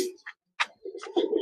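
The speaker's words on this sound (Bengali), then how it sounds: "মাদি কবুতরটা দেখেন, আর্মি কবুতর।" An army pigeon, a female, gives short throaty coos in quick bursts, close by, with brief gaps and a longer rolling coo at the end.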